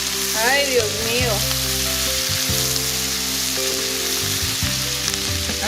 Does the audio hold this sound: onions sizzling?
yes